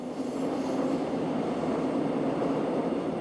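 Subway train running steadily, a continuous loud rumbling roar with rail noise, unbroken for the whole stretch and with no talk.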